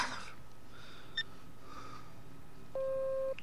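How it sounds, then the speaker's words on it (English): Dial tones and a short steady beep from a phone in the Gray Matter point-and-click game, heard faintly over low background hiss with a brief click before the tone. "Ring, ring."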